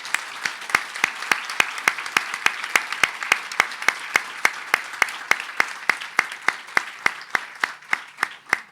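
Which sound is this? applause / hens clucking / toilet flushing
applause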